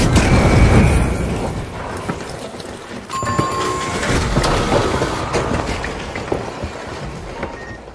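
Flashbang grenade going off in the video game The Finals, a sharp loud boom followed by a ringing, crackling tail and scattered clatter as the blast fades.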